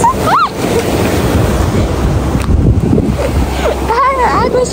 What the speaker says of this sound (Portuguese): Água chegando.